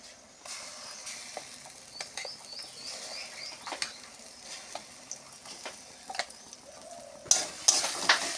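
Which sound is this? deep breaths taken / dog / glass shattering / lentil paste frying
lentil paste frying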